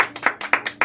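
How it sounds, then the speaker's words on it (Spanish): A handful of quick, sharp, close hand claps in a brisk rhythm as a small audience applauds author Bella Martínez at a readers' club interview. "un aplauso a la compañera"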